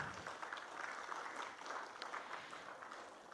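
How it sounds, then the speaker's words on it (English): Faint, distant round of applause from an audience at the official opening ceremony of the 2019 PIDF Leaders Conference and Summit, a soft, even wash of clapping that holds steady for several seconds. "I ask that we give our official party a big round of applause"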